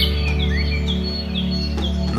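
Forest birds in Kyrgyzstan sing in clear, repeated short chirps and rising whistles, fairly close and bright above a steady low continuous hum.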